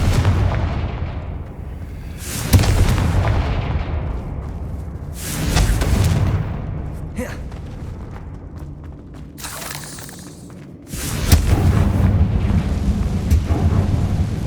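Spell explosions from the Hogwarts Legacy video game go off as several heavy booms, each a deep rolling blast that fades slowly, with quieter rumbling in the gaps.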